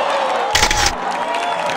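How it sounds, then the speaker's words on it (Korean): A brief burst of spectators cheering for US athletes at the Olympics rises for about half a second, then drops back to a steady background hum. "미국 선수의 선전에 환호하는 이방카"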